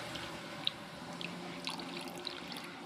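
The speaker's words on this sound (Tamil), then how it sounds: "ஊற்றி காட்டுறேன் பாருங்கள். தண்ணி வந்து ரொம்ப மெல்ல மெல்ல தான் இறங்கும்." Water poured slowly from a small bottle into the radiator of a Renault Kwid car, a soft trickle and gurgle with a few faint drips and splashes, close and quiet.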